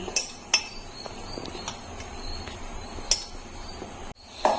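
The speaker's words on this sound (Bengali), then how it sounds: "এখন আমি সবকিছু ভালো করে মিশিয়ে নেব।" Flour, bread, black cumin, carom seeds and oil are mixed in a bowl, with faint scraping and occasional sharp clinks of a utensil against the bowl, close, ending in a brief louder rustle.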